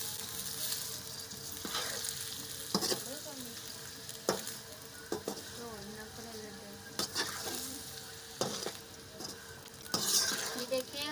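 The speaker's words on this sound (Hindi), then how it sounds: "हमने इसे अच्छे से फ्राई करना है।" Bitter gourd (karela) slices frying in a pan, a steady close sizzle with occasional spatula scrapes and clinks against the metal.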